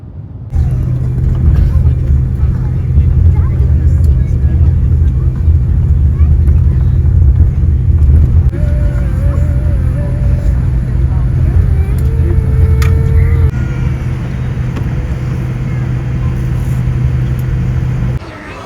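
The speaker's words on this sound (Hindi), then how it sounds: "हम करने लगे हैं लैंडिंग हीथ्रो एयरपोर्ट पे" Airliner landing at Heathrow Airport, heard from inside the cabin as a loud, steady low engine roar with a constant hum, lasting throughout and easing off slightly toward the end, with no one speaking.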